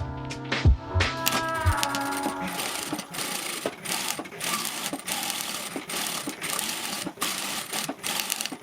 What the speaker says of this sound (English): Carefully sew along the edge, maintaining a 1 cm seam allowance.